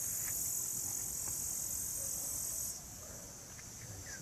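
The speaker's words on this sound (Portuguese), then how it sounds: "O grilo aqui cantando logo cedo." Continuous high, shrill cricket chirring in the early morning runs steadily throughout, dropping slightly in loudness near the end, with no voices present.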